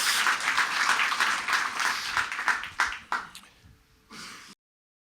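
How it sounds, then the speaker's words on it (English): An audience at a talk on virtual reality in healthcare applauds, dense clapping that swells, then thins into scattered claps and fades out, followed by a short murmur before silence. "So please, big applause for Karine"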